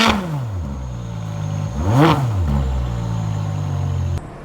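A 2011 Ferrari 599 GTO V12 engine revs hard, climbing and falling in pitch with a sharp blip in the middle, then settles into a steady high drone before cutting off.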